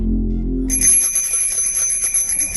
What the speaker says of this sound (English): the most bicycle bells being played at the same time in a musical way